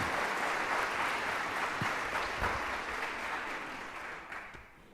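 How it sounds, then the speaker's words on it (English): A crowd at a museum exhibit opening applauds to welcome two presenters, dense clapping that holds steady and then fades out over about five seconds. "let's give a great big round of applause"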